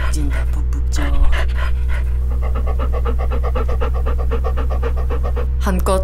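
A dog panting steadily and rapidly in summer heat, close and continuous over a low, constant hum, with a brief voice-like sound near the start and end.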